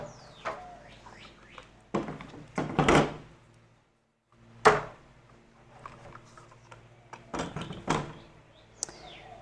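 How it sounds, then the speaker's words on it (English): Clamps being taken off a glued-up wooden cutting board: close, irregular clunks, knocks and rattling bursts separated by short pauses, including one brief silent gap. "we're going to take the clamps off"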